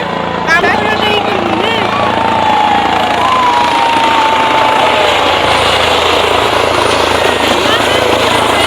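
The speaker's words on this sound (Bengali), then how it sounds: "দেখতেই পাচ্ছ হেলিকপ্টার চলে এসেছে।" The loud, steady whirring drone of a helicopter fills the air overhead, with people talking and shouting faintly underneath.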